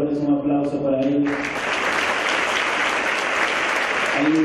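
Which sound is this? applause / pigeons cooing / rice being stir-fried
applause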